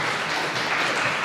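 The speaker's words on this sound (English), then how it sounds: "Please welcome with a round of applause." Audience applause for a speaker at a conference talk at a hacker camp, a dense and steady wash of many hands clapping together at fairly close range, with no voices over it.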